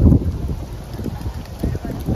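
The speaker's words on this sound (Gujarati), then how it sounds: "પવન આવે જોરદાર વાતાવરણ છે" Strong wind buffets the microphone outside the Umiya Mataji temple in Gathila, a Gujarati village, with low rumbling gusts that rise and fall and brief gaps between them, while a voice talks faintly underneath.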